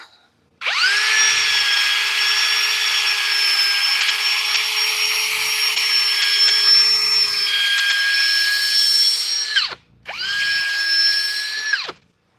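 A power drill runs loudly and steadily for about nine seconds, stops briefly, then whirs again for a shorter burst, close up with no talk.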